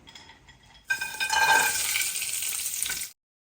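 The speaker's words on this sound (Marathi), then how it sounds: "आता तेल टाकते आणि याच्यामध्ये हे फ्राय करून घेते" Cashews go into hot oil in a pan, setting off a sudden loud, close sizzle that holds for about two seconds and then cuts off abruptly.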